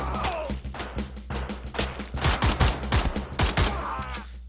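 Rapid gunfire in the shooter game Wolfenstein: The New Order: dense bursts of automatic shots and single cracks rattle almost continuously over a low droning background, loud and close throughout.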